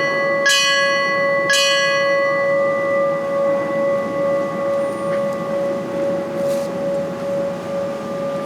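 Memorial bell tolled at a fire service training tower dedication, two clear, loud strikes about a second apart, each ringing out into a long sustained hum that fades slowly, with no voices.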